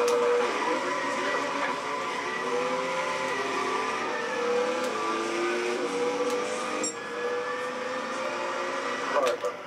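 A Trans Am engine roars steadily at high revs throughout a drag race in the video game Gran Turismo 6, a loud, continuous whine that climbs through the gears with only brief shifts.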